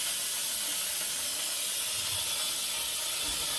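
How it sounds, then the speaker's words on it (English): Steam hisses steadily as it is vented off a batch of cooked carrots at a campfire cooking setup, a continuous broadband rush with faint mechanical clicks, close and fairly quiet. "Okay, the carrots are done, and so I'm going to let the steam off of them."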